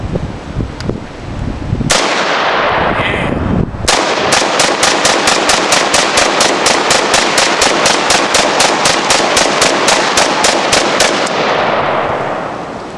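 AK-47 rifle firing outdoors: a brief opening burst, then a long, steady string of rapid, evenly spaced loud shots lasting several seconds before stopping.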